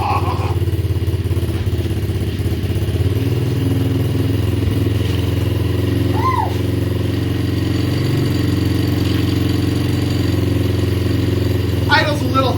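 A 90cc Pantera dirt bike engine, choke on, idles steadily and loudly close by after a kick start, with a small two-stroke putter and slight clatter throughout.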